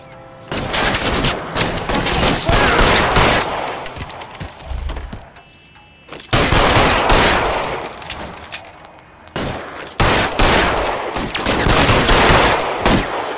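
Gunfire in an L.A. Noire shootout at Nicholson Electroplating: dense, loud bursts of rapid automatic fire in three long volleys, separated by short lulls.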